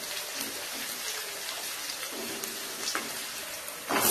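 Onions and curry leaves sauté in a pan for goat blood fry, giving a dense, steady, fairly loud frying hiss across the whole stretch with faint stirring scrapes and no voices.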